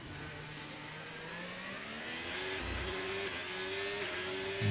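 A Formula 1 car in the F1 25 racing game holds a steady, rising engine whine as it accelerates through a lap, with a continuous droning tone and no speech.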